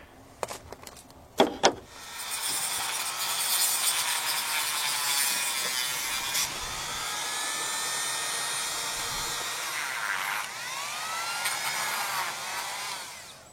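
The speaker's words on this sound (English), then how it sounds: "I was able to nick off that piece with a Dremel tool and just sand it down" Dremel rotary tool cutting and sanding down a piece of trim: a couple of sharp knocks, then a sustained high whine that grinds steadily, shifts pitch as the bit bites and eases, close and loud with no talking.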